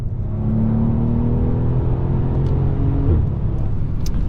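A Mercedes S65 AMG's bi-turbo V12 engine accelerates hard, its loud continuous roar climbing steadily in pitch with a brief shift-like dip near the end.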